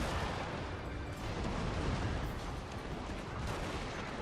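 Massed gunfire from revolver-armed troops in the video game Fall of the Samurai, a dense continuous crackle of overlapping shots and battle din at steady loudness with no speech.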